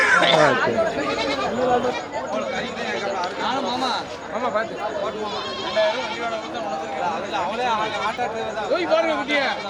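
Goats bleat at the busy Melapalayam goat market, the calls rising now and then through dense crowd chatter as people talk and bargain close by.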